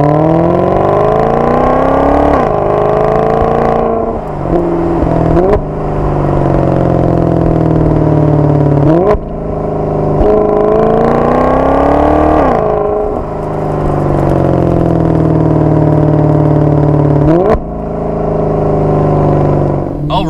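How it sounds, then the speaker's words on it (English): A 2016 Maserati GranTurismo Sport engine revs loud and close, climbing in pitch through repeated acceleration runs broken by quick gear shifts, with steady sustained drone between the changes. "my time behind the wheel of a 2016 Maserati GranTurismo Sport"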